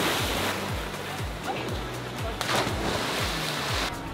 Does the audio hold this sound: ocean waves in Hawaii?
yes